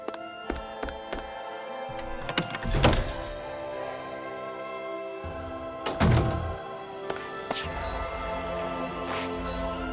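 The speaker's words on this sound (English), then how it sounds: "The sound of hammers banging away." Hammers bang in a Tales of Arise game scene, with a few scattered dull thunks and two heavier knocking bursts over a low steady background hum.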